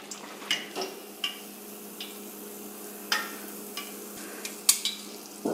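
Buñuelo de viento batter fries in hot oil with a low steady sizzle, broken by scattered sharp ticks and pops, close and moderately loud.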